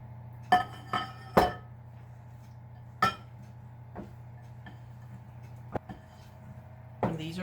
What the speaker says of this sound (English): And I'm just going to stir this to get all combined.